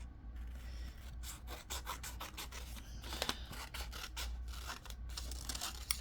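Scissors cutting paper corner to corner for a junk journal, with close, quiet snips and rustling paper strokes coming in quick irregular bursts.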